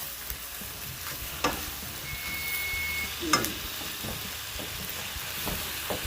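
Food fries in a pan with a steady, close sizzle, with a few utensil scrapes and a brief faint beep in the background.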